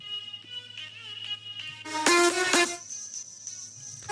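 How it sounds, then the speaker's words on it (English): Harsh, buzzy synth tones stab out in short bursts, peaking in a loud blaring chord before fading into a thin whine. "I just cut out resonant frequencies that are really harsh and they sound like this."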